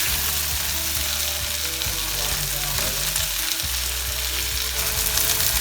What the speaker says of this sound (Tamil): இப்போ கொஞ்சம் ஆயில் போட்டு கிறிஸ்ப் அப் பண்ண போகிறோம்